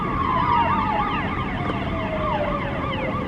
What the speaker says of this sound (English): do y'all hear that siren?